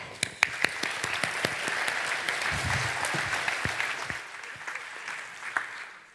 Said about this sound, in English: So please give her a big warm round of applause for coming on ShipItCon again.